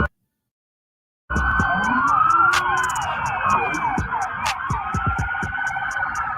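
Police car sirens wail in Miami and rise suddenly after a second of silence. The rising and falling tones carry on steadily with traffic rumble beneath and a few sharp blips.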